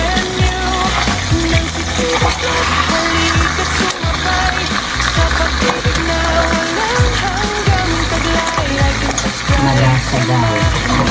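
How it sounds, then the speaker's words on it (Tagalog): Steak frying in a pan with garlic, a steady loud sizzle running throughout with scraping and stirring clatters, soft background music tones underneath. "Nagluluto siya ng steak. Nilagyan ng bawang."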